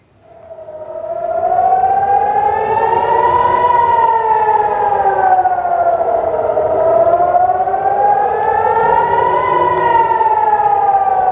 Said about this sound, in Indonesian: Sirine terus meraung saat beberapa roket melintasi langit kota Naharia